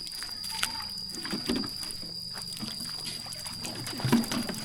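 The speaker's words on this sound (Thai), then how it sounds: "ก็น้ำไหลบ่แห้งเนาะ" Running water trickles and pours steadily while mushrooms are rinsed in a rural forest village in Laos, a soft, close liquid wash with occasional splashy bursts and no talk.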